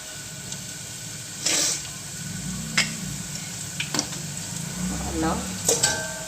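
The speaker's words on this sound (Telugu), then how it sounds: "అల్లం తర్వాత కొంచెం ఉల్లిపాయలు, పచ్చిమిరపకాయలు వేసి కొంచెం బాగా వేసుకుంటామండి" Onions and green chillies frying in a pan for upma make a low, steady sizzle, broken by a few sharp spatula clinks and scrapes against the pan.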